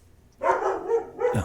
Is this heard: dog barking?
yes